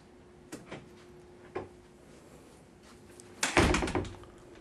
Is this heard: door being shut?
yes